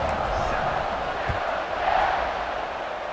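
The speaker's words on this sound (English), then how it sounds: "They're set to kick it off, and this crowd now ready to get behind them." Crowd noise fills a college football stadium before a kickoff in a Baylor vs James Madison game, a steady roar of cheering spectators with no clear speech on top.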